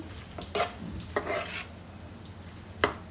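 Spoon scraping and stirring through a coconut, coriander and cumin paste in a curry pot, a few distinct metallic clinks and scrapes over a soft steady sizzle, close and fairly quiet.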